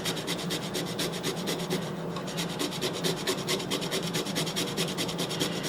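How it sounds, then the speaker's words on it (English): Whole nutmeg rasped against a microplane grater in a home kitchen, a steady run of quick scraping strokes, close and fairly loud, with no voices over it. "I'm going to go ahead and grate some of the nutmeg, so you have a microplane grater that you grate it on."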